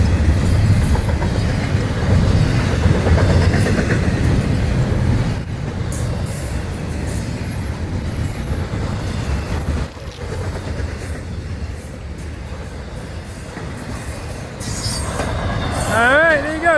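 A big train rumbles past close by for a long stretch, with a heavy low roar, rolling wheel noise and a few squeals near the end, as a voice speaks briefly over it.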